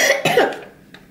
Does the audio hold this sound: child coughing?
yes